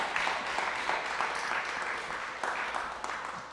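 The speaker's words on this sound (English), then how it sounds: "Let's give a round of applause." An audience at a tech meetup in New York City gives a round of applause, a fairly soft, even wash of clapping heard from a distance that carries on throughout.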